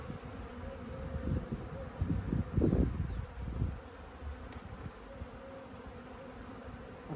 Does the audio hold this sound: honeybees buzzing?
yes